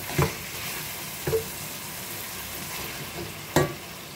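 Potato mince (aloo qeema) frying with spices in a pan, a constant close sizzle broken by three short scraping stirs.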